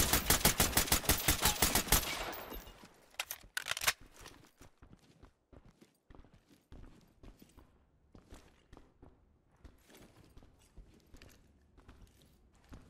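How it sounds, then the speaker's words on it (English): Rapid automatic gunfire in the video game Ready or Not, fired through a wall: a loud, dense burst for about two seconds, a few more shots, then scattered footsteps and clatter, with no talk. "Let me shoot this guy through the wall."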